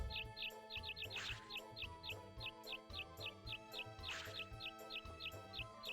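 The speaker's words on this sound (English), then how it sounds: "That bird's annoying." Bird chirps in Harvest Moon 64 on a farm: short, high tweets repeat in quick rhythmic clusters over cheerful background game music.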